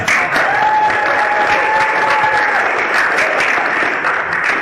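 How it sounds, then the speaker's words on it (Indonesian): Audience at a business sharing class applauding themselves, a sustained, even wave of clapping with a faint whistle-like tone threading through it. "yang terakhir tepuk tangan untuk diri Anda sendiri."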